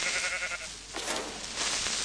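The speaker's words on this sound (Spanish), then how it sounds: "Mira, una oveja." A sheep bleating in a video game, a couple of wavering, nasal bleats close by and fairly clear above a faint background.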